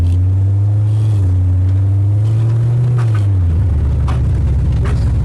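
An LT4-swapped 1967 Camaro rumbles loud and close through its exhaust, a deep steady drone that lifts slightly and then settles into a rougher, choppier throb near the end.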